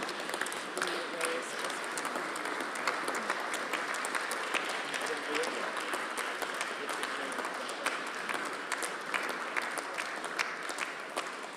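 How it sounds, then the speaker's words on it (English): Audience applause at a board of trustees public meeting, sustained dense clapping from a room of people lasting throughout, steady and moderately loud. "Please join me in a round of applause for David."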